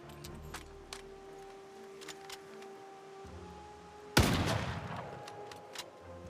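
A single loud shotgun blast booms in Project Zomboid, a sharp crack with a decaying tail standing out over a quieter bed of faint clicks and ambient hum.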